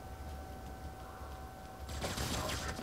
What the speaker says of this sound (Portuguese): Quem tá atirando, velho?